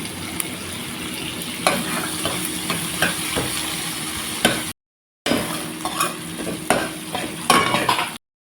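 Onion frying in a pan for Punjabi kadhi while being stirred: a steady, close sizzle with scraping stir strokes throughout, pausing briefly before resuming.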